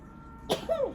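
A single short, sharp sneeze bursts out against a quiet background, followed by a brief voiced sound.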